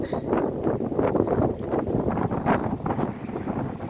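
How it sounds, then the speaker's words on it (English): Steady wind on a ridge in Talladega National Forest buffets the microphone in rough, rumbling gusts throughout, loud and close, with no voices. "It's windy up here on the ridge again."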